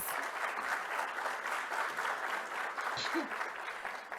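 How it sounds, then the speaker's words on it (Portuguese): Steady applause from the audience at a panel discussion on labour justice in Brazil, an even wash of many hands clapping throughout, moderately loud, with a faint brief voice near the end. "Salva de palmas"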